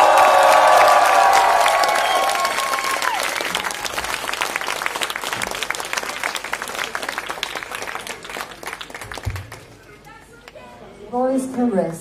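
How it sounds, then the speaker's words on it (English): Concert crowd at a live show in Sofia applauding and cheering, loud at first as the music ends, then thinning into scattered clapping before a voice speaks near the end. "Give her a round of applause."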